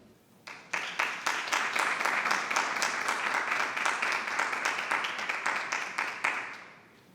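An audience claps at a school board meeting in Prince William County, a steady round of applause lasting several seconds before thinning out and fading at the end.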